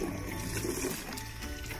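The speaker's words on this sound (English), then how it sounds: "Let's just give this a rinse." Water running steadily to rinse an item, a continuous close splashing rush with no talking.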